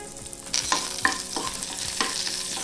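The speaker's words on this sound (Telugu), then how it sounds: "ఆయిల్ కాగిన తర్వాత ఇందులోకి 1 టేబుల్ స్పూన్ పోపు దినుసులు, 2 ఎండుమిరపకాయ ముక్కలు" Mustard seeds and dried red chilli pieces fry in hot oil for a fresh coconut chutney tempering, a short, close sizzle broken by several sharp spoon-stirring knocks, with no talking.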